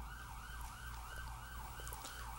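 An emergency siren wails outside during a lecture, its rising and falling tone repeating steadily over a low rumble of traffic, with no talking heard.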